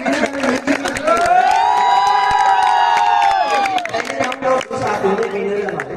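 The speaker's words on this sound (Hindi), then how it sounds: "तालियां हो जाए।" An audience at a magician's stage show breaks into clapping and cheering, with children's voices shouting and a sustained crowd roar that rises at once, peaks, then thins into scattered claps and chatter.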